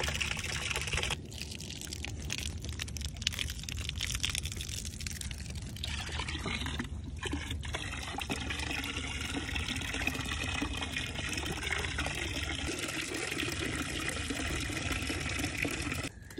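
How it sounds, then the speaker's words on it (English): Water pours steadily into horse water troughs, a faint continuous splashing and trickling stream that keeps going throughout with small shifts in tone. "I top up water troughs."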